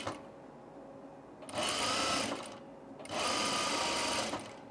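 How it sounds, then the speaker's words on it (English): An overlock sewing machine runs on canvas in two loud, even bursts of about a second each, close up, with short quiet gaps between them. "because I'm sewing 2 quickies today, we're going to do the overlock"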